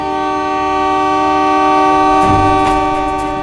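A train passes close by with its horn blaring in a loud, sustained chord throughout, and the rumble of the wagons swells midway through the pass.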